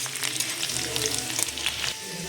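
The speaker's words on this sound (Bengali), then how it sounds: "কড়াইতে আমি দিয়ে দিচ্ছি তেল তেলের মধ্যে আমি ফোড়নে দিচ্ছি কালো জিরে আর দিয়ে দিলাম রসুন কুচি" Black cumin and chopped garlic sizzle in hot oil in a wok, a loud, dense, continuous frying crackle heard up close with no voices.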